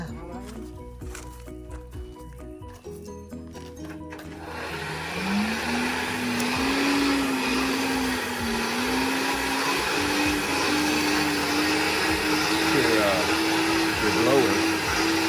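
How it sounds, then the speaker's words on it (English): A coal forge blower starts up and runs as a steady whirring drone with a rising hum, following a brief stretch of other noise, continuous and fairly close. "Your blower."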